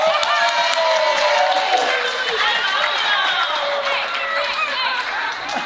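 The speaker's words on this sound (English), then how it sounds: "Can you clap for me?" An audience claps and cheers in a sustained, close burst, with whoops and raised voices mixed into the applause.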